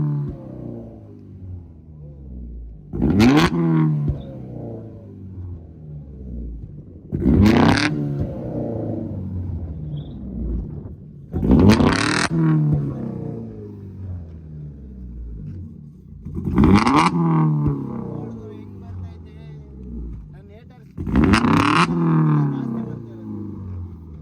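A car fitted with a two-step flame setup gives five evenly spaced bursts of revving, each opening with sharp exhaust pops and bangs, loud and close, with quieter idle between bursts.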